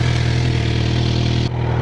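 A motorcycle engine idling up close, a steady, loud, even low rumble that runs without a break apart from a brief dip near the end.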